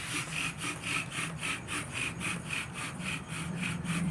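Bow drill spindle spinning on cedar fencing wood for a friction fire, a soft rhythmic back-and-forth grinding with about two even strokes per second, close and fairly quiet.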